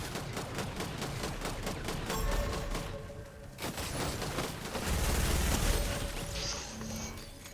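Rapid automatic gunfire in Fortnite, dense bursts of shots with mechanical clatter and booming impacts, loud and continuous with brief shifts in intensity.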